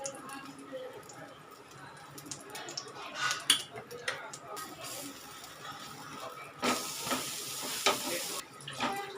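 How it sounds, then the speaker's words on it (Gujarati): Cheesy garlic bread frying in butter in a pan over a low flame: a steady sizzle with a louder burst of spitting near the end, plus occasional light clinks of a utensil against the pan. "આપણે આને તળાવવા દેવાનું છે"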